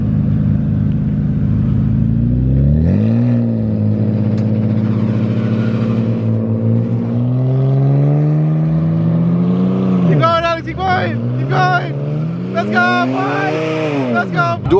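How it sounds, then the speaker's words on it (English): A BMW Z4's engine revs hard and repeatedly while a burnout is attempted, with rising and falling pitch sweeps that grow choppier toward the end, close and loud, with voices talking over it. "Do a burnout real quick, right?"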